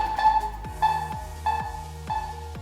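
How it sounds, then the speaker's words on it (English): A VanMoof X3 e-bike's anti-theft alarm growls in four repeated rising-and-falling bursts, each a buzzy tone with a low sweep, steady rhythm, close by. "Once locked, the bike will basically growl at anyone who tries to move it."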